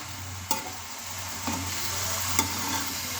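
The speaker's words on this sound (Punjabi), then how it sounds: "ਹੁਣ ਅਸੀਂ ਆਪਣੀ ਸਬਜ਼ੀ ਚੰਗੀ ਤਰ੍ਹਾਂ ਇਹਨੂੰ ਇੱਕ ਵਾਰੀ ਹਿਲਾ ਕੇ ਮਿਕਸ ਕਰ ਦਾਂਗੇ ਮਸਾਲੇ ਸਾਰੇ" Potato, carrot and pea curry stirred in a pan: steady soft sizzle with three distinct scraping strokes of the spoon, close and moderately quiet, no talking.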